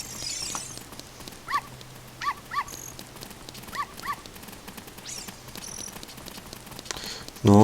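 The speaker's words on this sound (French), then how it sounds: "t'as juste les chiens qui se promènent de partout" Dogs roaming at night in the video game Zelda: Ocarina of Time bark in short scattered pairs at a distance over a steady night ambience of insects, with a sudden louder sound at the very end.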